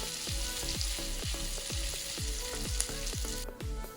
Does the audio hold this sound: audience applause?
no